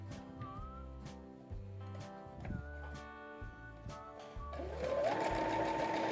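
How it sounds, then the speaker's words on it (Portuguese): Sewing machine stitching pieces of fabric scrap together, running in rapid bursts with short pauses between runs, close and clear, then ending in a brief louder higher whirring stretch. "e vamos costurar aqui."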